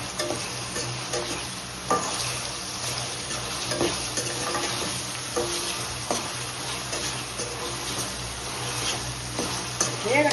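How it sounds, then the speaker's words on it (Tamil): Ground tomato and coriander paste sautéing in a pan as a chicken gravy cooks, with a steady close sizzle and frying hiss plus occasional stirring scrapes and light utensil clinks throughout. "அதை ஊற்றி நம்ம இப்படி வதக்கிறோம்"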